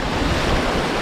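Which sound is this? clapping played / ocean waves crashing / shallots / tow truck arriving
ocean waves crashing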